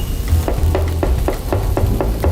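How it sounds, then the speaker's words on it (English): Chicken sizzles steadily in a hot pan, with regular scraping ticks about twice a second as it is stirred. "So hot that when you put your chicken in, it sizzles."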